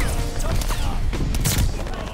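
Sniper rifle gunfire in an online shooter match, heard as a dense burst of shots and booms that runs the whole way through, loud and close, with no pause.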